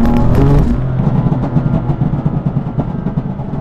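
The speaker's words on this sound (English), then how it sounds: "Like, a little downshift." BMW M4 CS engine note on a light downshift off the throttle, a loud close burble that drops from a brief blip into a crackling, pulsing exhaust rumble as the revs fall.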